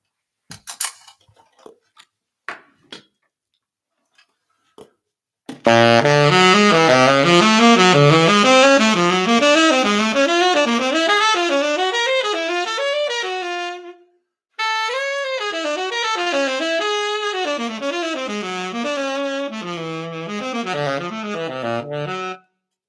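Piano plays a steady run of alternating augmented triads moving up and down, loud and close, with a brief pause midway before the pattern resumes.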